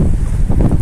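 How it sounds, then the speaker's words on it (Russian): Strong, hurricane-like gusts buffet the microphone outdoors near a house after a walk from a park, a loud, low, rumbling roar that surges and dips without pause. "Как поднялся ветер, прям такой ураганный ветер, гонит в спину."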